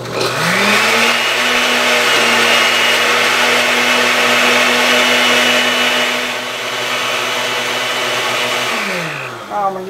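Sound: electric blender running, blending leaves with water

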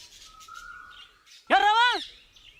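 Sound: sparrows chirping in a field

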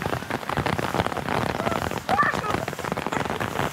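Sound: heavy rain

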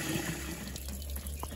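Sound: water poured from leaky bucket onto compost

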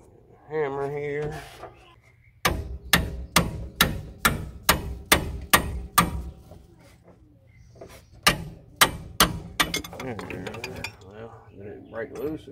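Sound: hammer striking metal

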